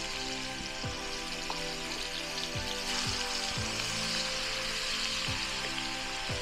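Onions sizzling in a pan for chili dogs, a soft, steady frying crackle throughout with faint tonal bumps and clicks in the background.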